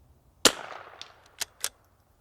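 A rimfire rifle fires at a precision target outdoors: one sharp crack, then two quieter follow-up shots in quick succession, each short and snappy with a brief tail.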